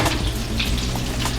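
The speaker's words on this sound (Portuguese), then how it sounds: "nosso filé de tilápia tá fritando aqui" Breaded tilapia fillet frying in hot fat, a steady close crackling sizzle that stays even throughout with no voices.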